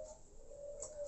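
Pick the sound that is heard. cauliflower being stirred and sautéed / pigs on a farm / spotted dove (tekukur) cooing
spotted dove (tekukur) cooing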